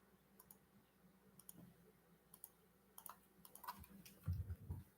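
Typing on a computer keyboard comes through as faint, sparse clicks in short bursts, growing a little louder and busier toward the end, with no voices.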